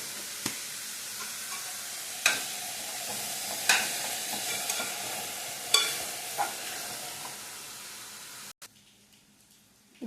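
A spoon stirs a chilli, sugar and salt mixture frying in a pan, with a steady sizzle broken by several sharp scrapes and taps against the pan before it cuts off abruptly near the end.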